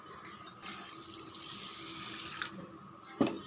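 Water pours steadily from a tap over raw rice set to soak, a continuous rushing splash lasting a few seconds before a brief knock at the end.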